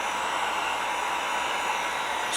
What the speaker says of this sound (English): so it'll dry it faster with a hair dryer, especially with craft acrylic paints